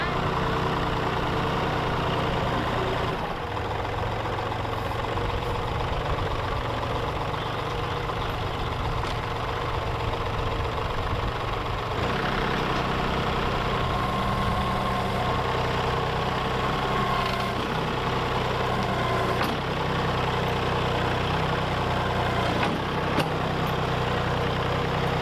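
A tractor engine idles with a continuous low rumble and steady vibration close by. The tractor is about to load logs onto a trailer in a wooded area, and the drone carries on without a break.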